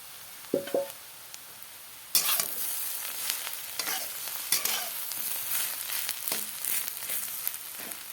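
Bitter gourd and potato stir-fried with green chillies and onion in a pan, a steady sizzle broken by repeated scraping stirs and clattering spatula strokes, close and fairly loud with no talking.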